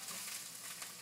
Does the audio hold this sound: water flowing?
no